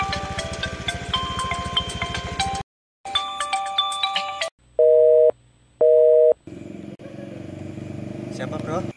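A telephone busy signal on a call sounds as two loud, evenly spaced steady beeps midway through, set between stretches of music and engine-like noise.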